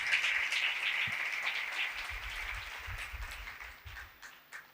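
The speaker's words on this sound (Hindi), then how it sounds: "खुदा के जलाल के लिए जोरदार तालियां बजाएं।" A church congregation breaks into loud applause, a bright dense clapping that swells at the start and gradually thins and fades, with a few low thumps toward the end.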